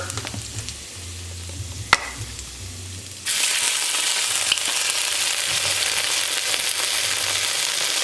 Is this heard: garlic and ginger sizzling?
yes